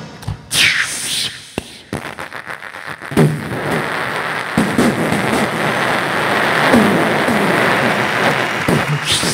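A voice imitates a firecracker going off, with a few sharp cracking bursts followed by a long, loud crackling hiss, close and without talk.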